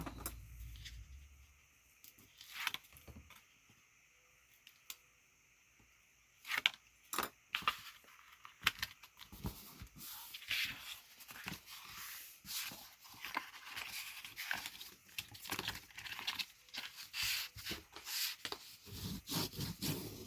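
Burnishing by hand to set an album spine: quiet, close rubbing and scraping strokes come in irregular bursts, with a few sharper taps, and no voices.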